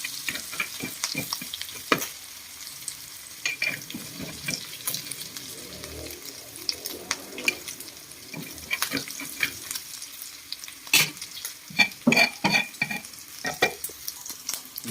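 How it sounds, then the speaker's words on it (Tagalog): Garlic and ginger toast in a hot pan with a steady sizzle, broken by frequent scraping and clattering stirs throughout, close and fairly loud. "Toasted natin yung bawang at saka yung luya natin guys."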